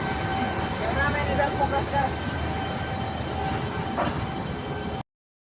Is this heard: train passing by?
yes